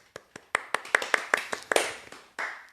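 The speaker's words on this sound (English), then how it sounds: "insert clap track" About a dozen sharp hand claps in a steady, evenly spaced rhythm, close and clear, followed by a brief burst of applause-like noise.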